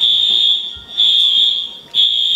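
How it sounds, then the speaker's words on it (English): A home fire alarm blares in three long, loud, steady electronic tones, each separated by a short gap, with almost no other sound around it. "You know how to reset your alarm?"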